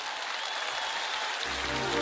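A large concert audience at a show applauds steadily, a dense wash of clapping filling the space, loud and continuous without pause.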